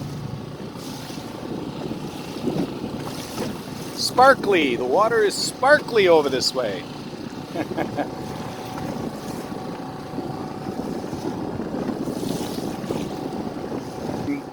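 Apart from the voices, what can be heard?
small boat with 4hp outboard motor cruising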